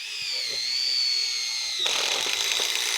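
A drill drives a screw into a steel caterpillar tunnel bow just below the swage joint, a rising motor whine followed by a rougher grinding bite as the screw seats, close and alone.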